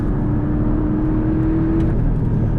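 A Porsche 718 Cayman GTS six-cylinder engine pulls hard through the mid-range in third gear, a steady loud engine drone with a strong low hum and rising tone, heard from inside the car with no talk.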